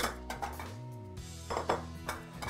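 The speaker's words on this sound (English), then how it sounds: "We're going to toss it up. Mix up all of our field greens with the romaine" Field greens and romaine are tossed in a salad bowl, with a quick run of clinks and knocks from utensils against the bowl, fairly close and fairly loud.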